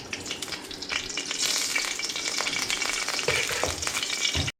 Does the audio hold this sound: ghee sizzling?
yes